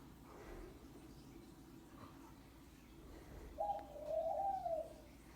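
Caged pigeons or doves coo in the background of a quiet indoor room, one clear cooing call rising briefly near the end over a low steady hum.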